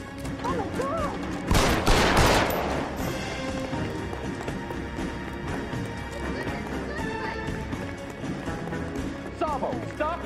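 In the detective game L.A. Noire, a loud burst of gunfire rings out, followed by a rough, echoing tail. Voices talk around it, and horse hooves and a whinny sound faintly in the background.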